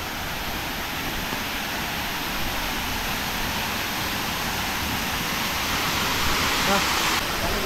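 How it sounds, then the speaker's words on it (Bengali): A small hill-country waterfall at Nokaba in Bilaichhari, swollen after rain, roars close by in a steady, loud, broadband rush of falling water that never lets up. "এই হচ্ছে ঝর্ণা।"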